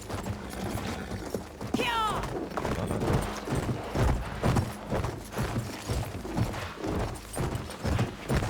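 Rhythmic hoofbeats clop along steadily at a gallop, with a brief whinny early on and a voice speaking over the galloping, in the video game Battlefield 1.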